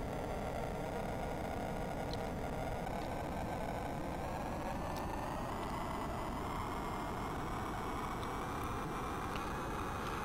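A steady hiss of plain white noise stands in for the jet engine in the Commodore 64 game Acrojet, a flat unchanging rushing tone with a faint rising whine and a few soft blips layered on top.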